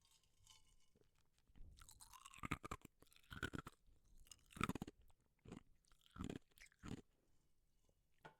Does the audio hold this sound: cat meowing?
no